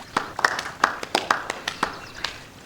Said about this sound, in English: So I thought we could begin with a round of applause